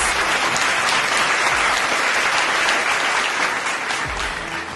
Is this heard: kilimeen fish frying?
no